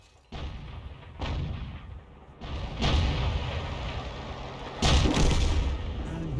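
Tank cannons booming in a World of Tanks-style battle, several heavy shots spaced a second or two apart, each a sudden loud blast that trails into a rumbling echo.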